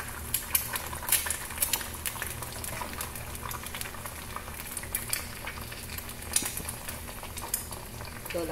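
Eggs frying in a pan for sunny-side-up eggs, a steady close sizzle and crackle with scattered sharp pops and occasional light utensil clinks.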